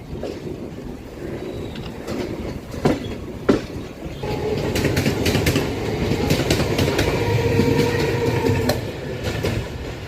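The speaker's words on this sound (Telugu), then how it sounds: "ఆన్ టైంకి చెన్నై ఎగ్మూర్ రైల్వే స్టేషన్కి అయితే వచ్చింది మన ట్రైను" Circar Express train pulling into Chennai Egmore station, a steady rolling rumble with wheel clatter and brake squeal rising midway, joined by scattered clicks and station ambience.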